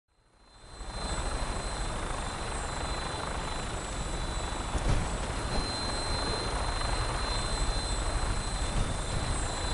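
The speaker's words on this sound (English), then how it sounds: "Flying around in a 200-year-old aircraft?" A 200-year-old aircraft in flight in Fallout 4, its rotor-like engine drone rising in over the first second, then holding steady, loud and close, with a thin high whine on top.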